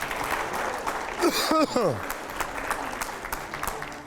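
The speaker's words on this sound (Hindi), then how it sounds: "आइए पहले ज़ोरदार तालियां हो जाए" Loud applause from an audience at a political rally, a dense burst of clapping that swells for a couple of seconds and continues under a man's speech.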